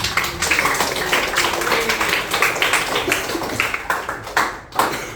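A classroom of children applauding together, a dense, close patter of claps in brisk rhythm that runs for several seconds before tapering off.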